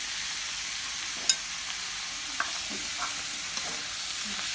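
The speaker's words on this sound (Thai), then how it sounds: "เสร็จแล้วก็จะผัดปลาไหล ให้เข้ากับเครื่องแกง" Eel stir-fries with curry paste in a large pan, giving a steady loud sizzle with a few faint scrapes and taps of a utensil stirring, no voices.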